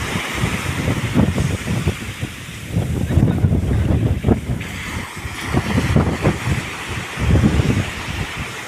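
Strong wind buffets the microphone on a fishing boat out at sea while trevally fishing, with waves churning in a constant loud roar that swells and dips in gusts.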